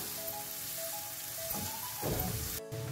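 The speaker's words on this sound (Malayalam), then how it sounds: "ഇത് ഗോൾഡൻ കളറാവുന്ന വരെ ഒന്ന് വഴറ്റിയെടുക്കാം" Chopped onions sautéing in a pan make a soft, steady sizzle under a faint background hum, with a brief clatter and a louder hiss near the end.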